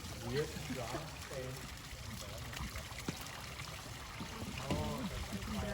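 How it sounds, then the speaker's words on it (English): A shower runs steadily, a constant hiss of falling water close by, with people talking over it throughout. "Decided to have a refreshing shower."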